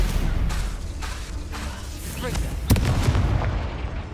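Spell attacks in Hogwarts Legacy crackle and boom in a busy combat mix of repeated impacts, bursts and whooshes, heavy and continuous, with one sharp blast partway through. Someone speaks over the fighting.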